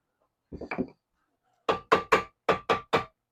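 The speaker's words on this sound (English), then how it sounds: "A little tap there." A hammer taps a steering knuckle loose on a SeaStar hydraulic steering cylinder, giving six sharp, evenly spaced knocks in two groups of three, with a brief murmur of voice just before.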